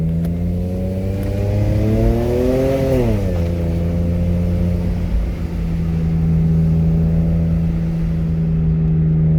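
A BMW 335i turbocharged car accelerating hard with paddle-shifted gears: a loud, close engine climbs in pitch, drops sharply at an upshift around three seconds, then holds a steady droning note through the rest of the run.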